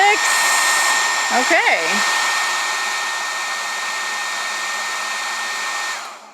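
An 1870 watt hair dryer runs on a Jackery Explorer 1500 power station, a steady close whirring blow that holds level before cutting off at the end, with a brief spoken word partway through.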